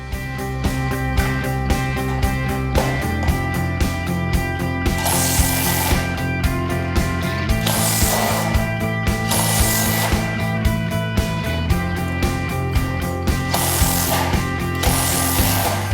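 Shed frame parts are screwed together with a ratcheting tool, a loud, close run of rapid, steady mechanical clicks that goes on without a break against a constant background, and no talking.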